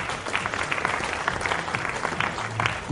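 An audience at a technology awards ceremony breaks into a dense, continuous round of applause that holds steady throughout, heard from a moderate distance in a large hall.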